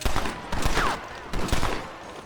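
Gunshots in a Red Dead Redemption firefight, several loud cracks in quick bursts over a busy, noisy background, close and forceful throughout.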